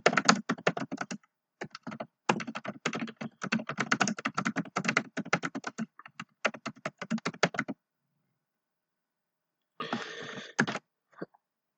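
Rapid clicking keystrokes on a computer keyboard, close and crisp, in long bursts with a brief pause before a final flurry.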